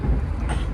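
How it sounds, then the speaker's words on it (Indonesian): Steady low rumble inside a KA Bogowonto economy-class train on the Jakarta–Yogyakarta line, with a faint swell of rushing wheel and rail noise as another train is passed, continuous and close. "Nyusul kereta kayaknya."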